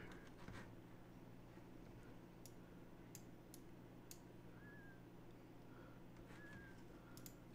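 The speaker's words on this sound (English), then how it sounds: "Very slight bird song." Faint, sparse chirps of bird song sit within a steady low game soundscape from a 1993 PC game, a few brief whistled notes surfacing now and then across the quiet background.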